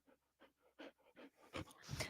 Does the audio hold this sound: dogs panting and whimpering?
yes